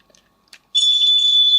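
A Bandai Yu-Gi-Oh! Millennium Ring toy's built-in speaker comes on after a few faint clicks and blares a loud, steady, high-pitched electronic tone that holds to the end.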